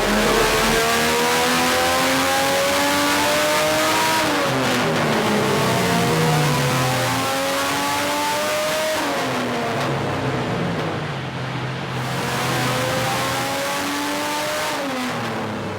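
Turbocharged Barra engine in an 80 Series Land Cruiser on a dyno run, loud and close, revving up through repeated rising sweeps with brief drops between shifts, ending in a strong high-rpm pull.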